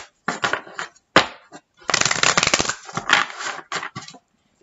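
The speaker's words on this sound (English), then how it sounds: "One more shuffle." Cards riffle and flutter in quick crackling bursts, a couple of short shuffles followed by a longer rapid one, close and crisp against silence.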